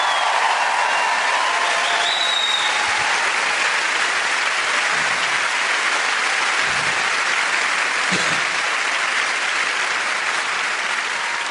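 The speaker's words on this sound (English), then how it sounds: "Can we have a huge round of applause for the true star of the show" Sustained, loud applause from a comedy show audience fills the room at a steady level throughout, with no voices breaking through.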